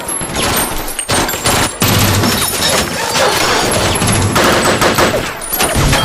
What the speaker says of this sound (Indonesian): rentetan tembakan terdengar dari luar